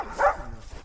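A dog gives a single short, sharp bark nearby, standing out briefly above quiet background noise.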